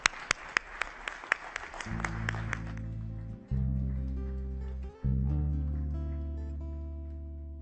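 Applause from an audience welcoming a Spanish audiovisual production company at its presentation: a few seconds of scattered hand claps, after which loud music takes over.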